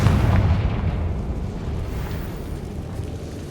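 A Confringo fire spell bursting in the video game Hogwarts Legacy, a heavy low boom at the start that rolls away into a long rumbling decay.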